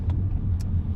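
A 2002 Alfa Romeo 166 3.0 V6 24V Lusso Sportronic cruising through town, heard from inside as a steady, close low rumble of engine and road noise with no speech.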